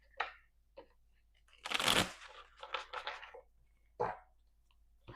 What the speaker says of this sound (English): One last shuffle. Gotta end it on a good note.